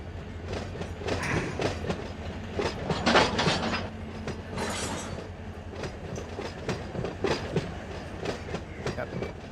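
Freight train with tanker cars rolling through the Los Angeles Junction Railway in the Run 8 train simulator game, a steady rumble with rhythmic clickety-clack from the wheels on the rails.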